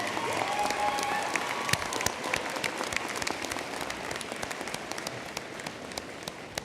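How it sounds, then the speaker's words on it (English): Sustained applause from a large commencement audience at a university graduation ceremony, a dense steady wash of many hands clapping at once, fairly loud and continuous throughout. "I'd like you to give a round of applause and thanks to the faculty and staff of the university"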